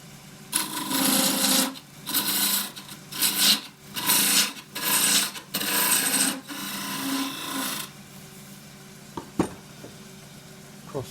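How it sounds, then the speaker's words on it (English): A lathe gouge peels across wood end grain in a series of loud rasping, hissing bursts, six or so strokes each lasting about a second, followed by quieter knocks and taps. "Across the end grain, I only feel a bit safer doing it with the gouge these days"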